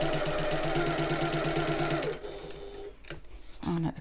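A sewing machine stitches a shoulder bag with a steady, loud mechanical whir for about two seconds, then slows to a quieter, broken run with a few short clunks and brief bursts, close by and alone.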